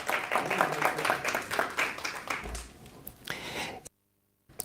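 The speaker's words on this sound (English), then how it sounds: "Let's give him a round of applause." Brief applause rises in an ordinary council meeting chamber, a scattered patter of clapping hands under some murmured talk that fades out after a few seconds.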